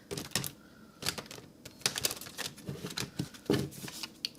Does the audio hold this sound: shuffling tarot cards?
yes